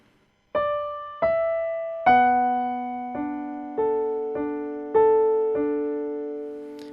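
Soft piano playing with both hands, a few upper notes joined by a low bass line, seven gentle strikes ringing out in a slow, steady rhythm.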